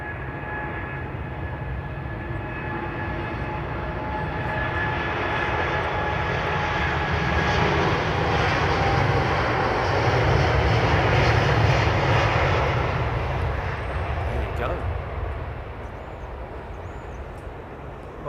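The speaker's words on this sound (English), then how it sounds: "Ooh, 767 start." Boeing 767 jet engines spooling up for the start of a takeoff roll on runway 27R, a broad, steady roar that swells gradually and peaks before easing slightly, heard alone from a moderate distance.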